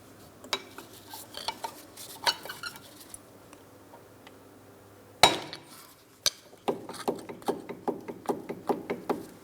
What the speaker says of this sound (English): I'm going to pry up against it and pull the caliper outward